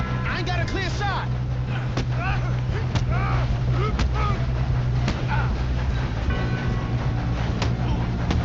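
Train running in Red Dead Redemption 2, a steady low rumble and rattle of rail cars throughout, with wind noise and bursts of in-game shouting and dialogue over it.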